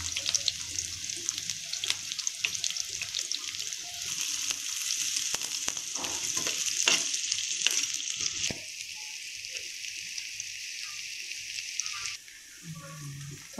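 Onions softening in hot oil in a pan for a street-style shami burger sizzle steadily and close by, with scattered stirring scrapes; the frying hiss thins out toward the end.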